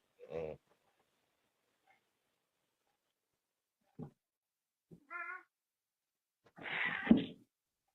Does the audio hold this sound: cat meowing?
yes